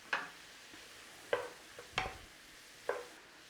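Red lentils for a lentil bolognese cooking in a pan, a faint sizzle under several distinct scrapes of a spoon stirring, close and quiet, no voices.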